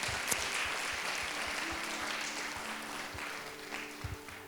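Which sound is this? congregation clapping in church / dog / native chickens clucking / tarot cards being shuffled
congregation clapping in church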